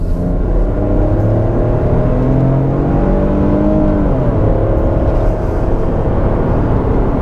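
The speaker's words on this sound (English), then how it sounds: "It makes a lot of noise when you try to floor it." Loud, sustained engine drone from a 2021 Ford Bronco Sport Big Bend under hard acceleration, the pitch rising steadily as it revs with constant road noise.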